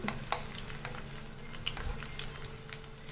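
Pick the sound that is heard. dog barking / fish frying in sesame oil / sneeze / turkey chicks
fish frying in sesame oil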